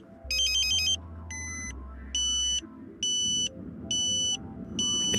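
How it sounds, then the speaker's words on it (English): A Ka-Sat satellite dish pointing meter sounds its siren-like alert, pulsing on and off about five times in even bursts over a low steady hum, close and clear with no talk. "You hear the ambulance tone again."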